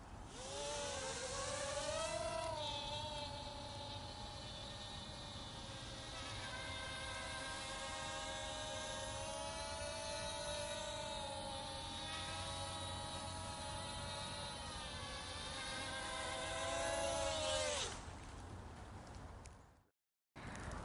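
A Hubsan X4 107L quadcopter flies outdoors in light wind, giving a steady high-pitched whine whose pitch rises and dips as it maneuvers, then cuts out abruptly near the end.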